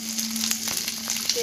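Parshe fish frying in oil in a pan with mustard and salt, a steady close sizzle broken by a few scraping stirs, with no voices.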